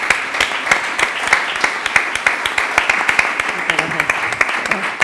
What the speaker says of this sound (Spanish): Por favor, démosle un aplauso a los tres participantes.